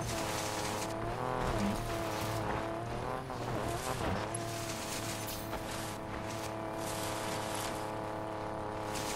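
Race cars roar through a Need for Speed Payback race on Xbox One X, a steady loud engine drone with shifting revs and brief tire squeals across the whole stretch.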